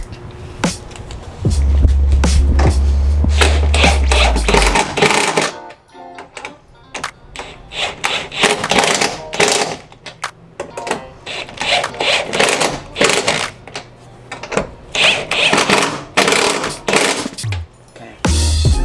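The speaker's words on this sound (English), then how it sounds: "And we'll just tighten up the bolts at the top." Bolts on a Mustang Shelby GT500's suspension are tightened with a rapid-fire power tool, loud close bursts of rattling impacts in repeated short runs separated by brief pauses.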